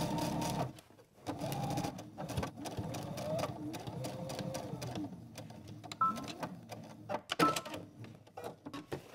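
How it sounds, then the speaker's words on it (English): A sewing machine runs a basting stitch along a dress seam, whirring up close in quick rhythmic bursts that stop and start as the fabric is guided. "I'm gonna sew the rest of the way up."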